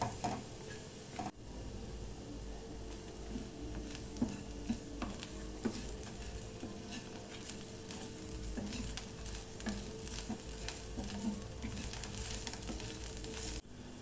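Steady sizzling of dry coconut being sautéed in a hot pan, with repeated scraping and stirring strokes, close up, continuing for several seconds with no talking.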